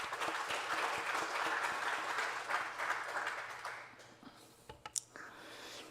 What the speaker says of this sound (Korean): 우리 다 같이 박수로 함께 하겠습니다.